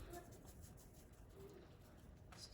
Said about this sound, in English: Someone's chirping in the background.